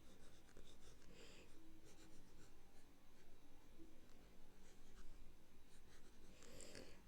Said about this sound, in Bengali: তো এখানে লিখে দিচ্ছি।